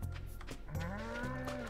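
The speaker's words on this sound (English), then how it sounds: "here's a cow." A cow in the farming video game Stardew Valley gives a drawn-out, close moo, a low groaning call that rises and sustains over quiet game background sounds.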